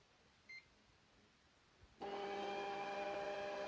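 A MamiRobot Pporo robot vacuum cleaner with an E1 fault gives a short faint electronic blip, then its motor starts with a loud steady whir carrying bright tonal whine through the rest.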